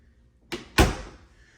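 An interior house door opening, heard close as two quick knocks: a short thud followed by a louder clack that rings out briefly, with no talking.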